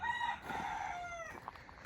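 A chicken in a coop crows in a short, shrill, drawn-out call with a clucking tail, fairly close, with no voices.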